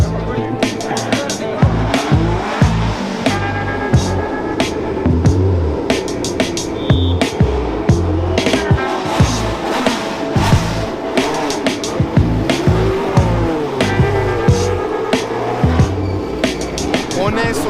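Historic Grand Prix race cars on the grid, engines roaring loudly and continuously with revving and bursts of throttle, under crowd noise and talk throughout.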